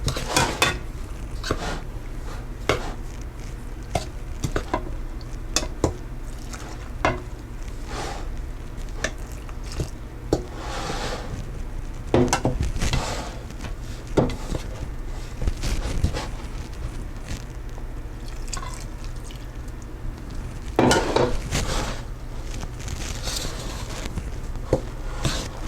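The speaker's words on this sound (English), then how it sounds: "Now I'm going to start working that into my flour." Whole wheat bread dough being worked by hand as yeast is mixed into flour, giving soft squishy kneading sounds with occasional knocks against a bowl, close and fairly quiet, with no talk.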